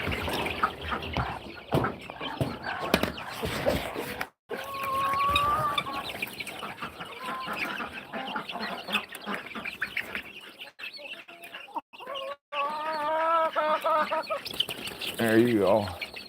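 Chicks being moved into a new enclosure cluck and chirp continuously, close and fairly loud, with rustling and handling noise and a person talking at times.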